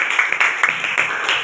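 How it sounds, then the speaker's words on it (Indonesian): Children in an elementary school classroom in Fakfak clap their hands together in a brief, dense burst of applause, close and fairly loud, with a few louder individual claps standing out. "Tepuk tangan semua dulu."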